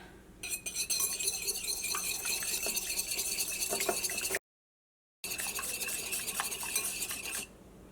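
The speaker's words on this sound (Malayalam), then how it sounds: "ഈ മുട്ട നമുക്ക് നന്നായിട്ടൊന്ന് ബീറ്റ് ചെയ്തിട്ട് എടുക്കാം" A whisk or fork beats eggs with salt and chili powder in a bowl, a steady rapid clinking and sloshing against the bowl's side that runs for several seconds, broken by a brief gap.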